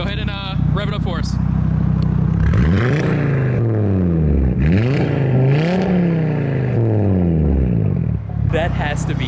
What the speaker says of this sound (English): Go ahead and rev it up for us.